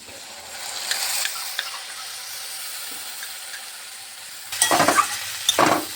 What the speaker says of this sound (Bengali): মশলাটাকে দিয়ে ভালোভাবে একটু কষিয়ে নিচ্ছি।